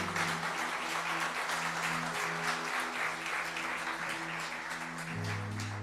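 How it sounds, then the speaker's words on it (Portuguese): Church congregation applauding during a service, steady dense clapping with a low sustained tone from sound equipment underneath, easing slightly toward the end. "aplauda ao Senhor Jesus por isso."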